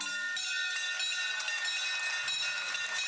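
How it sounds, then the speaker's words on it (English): A bell rings out steadily at the Philippine Stock Exchange to open trading, a bright sustained metallic tone that carries loud through the whole span. "President Bongbong Marcos rings the opening bell at the Philippine Stock Exchange"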